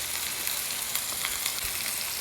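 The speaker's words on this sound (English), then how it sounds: "typically you want to sear it on the fat side first" Trimmed steaks sear fat side first in a hot pan for bistro steak frites, giving a dense, even, close sizzle and crackle that runs unbroken throughout.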